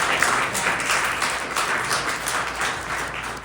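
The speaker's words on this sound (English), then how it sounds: "A round of applause." A conference audience applauds steadily, a dense wash of many hands clapping at a constant level throughout, with no voices standing out.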